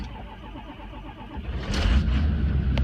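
A cold engine with dead batteries cranks unevenly, sputters, then catches and settles into a low, rough idle.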